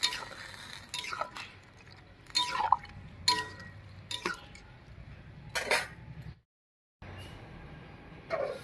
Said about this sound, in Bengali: এবার একটু নাড়িয়ে নিয়ে জলটা ছেঁকে নেব।